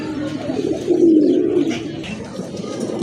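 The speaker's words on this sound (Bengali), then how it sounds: "মাশাআল্লাহ আরেক জোড়া কবুতর, খুবই কিউট এক জোড়া কবুতর" Pigeons cooing at close range, a low throaty rolling coo that swells in the middle and continues softly alongside faint chirps, with no talking.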